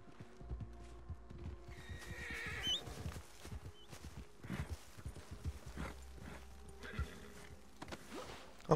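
Hooves clop along over uneven ground in the Red Dead Online video game, with a brief horse whinny partway through. Scattered thuds and movement sounds fill the background.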